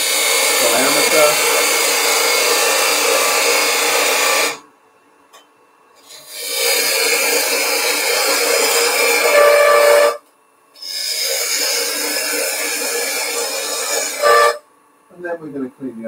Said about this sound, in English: we'll use the skew chisel as a nice big parting tool